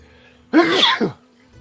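A single close, loud sneeze from a person, a sharp burst that fades quickly into near silence.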